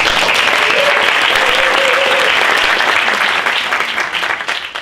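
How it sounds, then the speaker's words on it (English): Conference audience at a LinkedIn event in Johannesburg claps warmly, a loud, dense, steady wash of applause that starts to thin and taper near the end. "So give him a warm applause."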